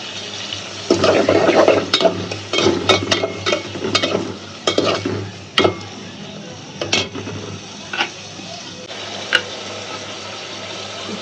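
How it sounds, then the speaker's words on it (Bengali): Tengra fish sizzles in hot oil in a pan while a spatula stirs it, giving repeated scraping clatters over a steady frying hiss. "সুন্দর করে ভাজি সুন্দর করে ভাজাটা আমি দিয়ে দিলাম"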